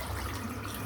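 Water running from a tap during a wet shave with a Gold Dollar 100 Stallion razor, a steady close rushing and splashing that lasts the whole short moment without any talk.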